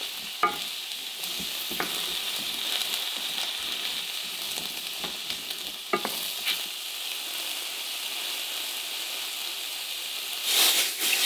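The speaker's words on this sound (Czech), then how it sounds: "Žampiony z prutka zarestuju." Sliced button mushrooms sauté in a hot frying pan for beef stroganoff, a steady close sizzle and hiss with occasional scraping stirs, growing briefly louder near the end.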